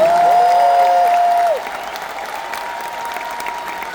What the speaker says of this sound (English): Somebody clap your hands if you believe that.